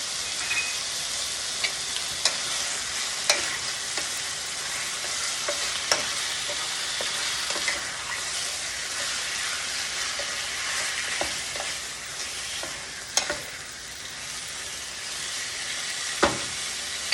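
Chicken and Italian sausage seasoned with salt, pepper and red pepper flakes brown in a hot pan, a constant sizzle punctuated by occasional scrapes and clicks of a stirring utensil.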